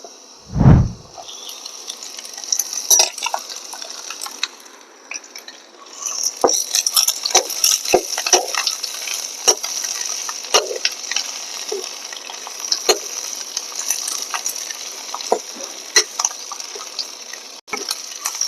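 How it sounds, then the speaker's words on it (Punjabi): Potatoes, onions and green chillies sizzling in oil in a pan, a steady hiss broken by repeated scraping and clinking as a spoon stirs, after an opening thump. "ਆਲੂਆਂ ਨੂੰ ਤੇ ਗੰਡਿਆਂ ਨੂੰ ਆਪਾਂ ਚੰਗੀ ਤਰ੍ਹਾਂ ਪਹਿਲਾਂ ਫਰਾਈ ਕਰ ਲਾਂਗੇ"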